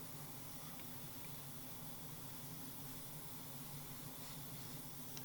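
An airbrush lays a very light coat of paint over red on a Hasegawa Lancia 037 Rally scale model, making a faint, steady, even hiss that runs without a break and with no voices.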